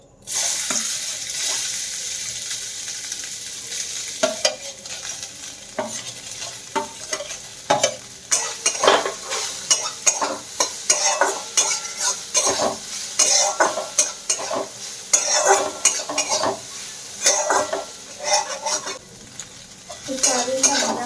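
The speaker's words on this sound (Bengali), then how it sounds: "এই তেলটার মধ্যেই সয়াবিনগুলো ভেজে নেব।" Soybean chunks fry and sizzle in hot oil that was just used for frying eggs, with repeated scraping and clattering of a spatula stirring in the pan, a steady crackle running throughout and no voices.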